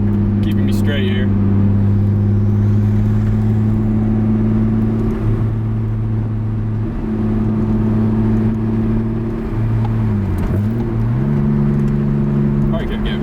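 Nissan Skyline R32 GTS-T engine droning steadily from inside the cabin while driving, a loud continuous hum with a brief pitch dip and rise near the end as the revs shift.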